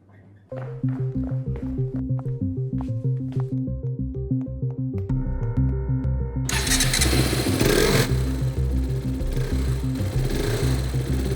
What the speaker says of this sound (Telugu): ఏంటి ప్రసాద్, కొత్త బైక్ కొన్నావా?